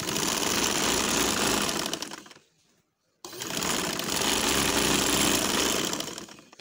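A hand-operated sewing machine stitching cloth, a loud, even mechanical whirr that runs for about two seconds, stops briefly into near silence, then starts up again and runs steadily.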